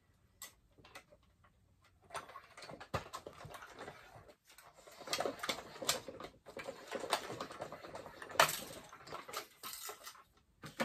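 A small manual cut-and-emboss machine cutting out paper for a handmade autumn card makes a run of dry, uneven clicking and ticking, soft at first and then busier and louder, with no voices.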